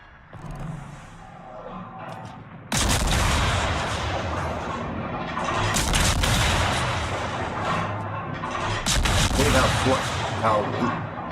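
Ship guns firing in the naval battle game World of Warships, heavy booming salvos rolling into a dense, loud roar of overlapping blasts after a quieter start, with a voice talking beneath.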